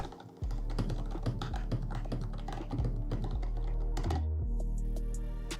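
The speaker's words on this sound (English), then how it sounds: "Every time you press one key, part of your finger keeps touching against the key directly beneath it." Rapid typing on a custom luxury keyboard with metal keycaps, a close, continuous run of crisp clacking keystrokes with a few heavier thunks, heard alone without speech.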